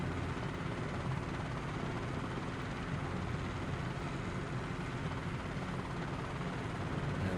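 Simulated helicopter rotor and turbine sound from SimFX in Microsoft Flight Simulator, a steady, dense whirring drone that holds even and unbroken throughout at low volume, with no voices.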